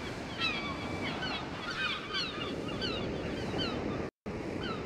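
Ocean waves roll and wash continuously aboard a ship's deck in the video game Steambot Chronicles, with wind and high, chirping calls layered over the surf and a brief dropout near the end.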